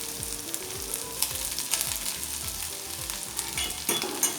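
Sweet corn sizzles and crackles in hot ghee while being stirred, a steady close frying hiss broken by repeated scraping strokes of a spoon in the pan.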